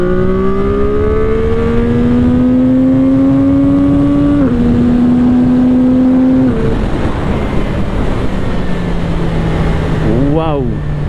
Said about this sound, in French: c'est un moteur qui fait pas mal de bruit, mais un bruit super, comme je le disais, un vrai bruit d'échappement